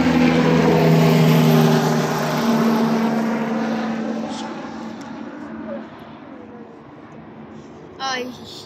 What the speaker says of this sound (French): Un hélicoptère de zombies, ils vont nous remarquer.